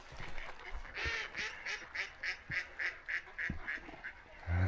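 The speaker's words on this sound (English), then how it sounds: "This is like a nightclub for mallards. They're getting their party on." Mallard ducks quack in a lively, rhythmic series of calls at a winter pond, fairly close and steady, with faint outdoor ambience and a little talk.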